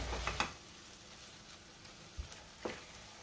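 Pav bhaji masala with onion, tomato and capsicum fries in a pan, a soft sizzle broken by a few scrapes and knocks of stirring.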